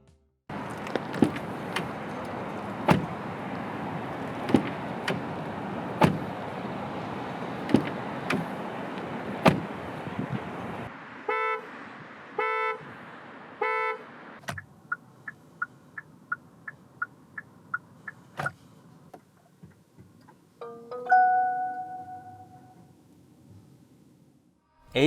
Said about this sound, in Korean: 잠시 아이오닉 5가 들려주는 감성 측면의 소리를 들어보겠습니다.